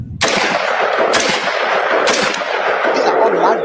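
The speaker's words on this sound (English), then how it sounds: "These are live bullets the police firing." Live police gunfire in Liberia, loud sharp shots cracking out at irregular intervals over a dense, roaring background of echoing reports and crowd noise.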